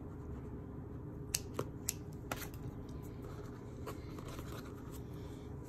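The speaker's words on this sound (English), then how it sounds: "Let me cut this yarn." Scissors snip crochet yarn while a holiday coaster is being made. A few quick, soft cuts come close together near the start, faint against a low steady background hum.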